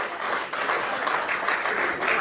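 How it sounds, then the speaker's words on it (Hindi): An audience claps steadily throughout at a Hindi political speech, a dense, even patter of many hands with no pauses. "देखिए वो ताली बजा रहे हैं"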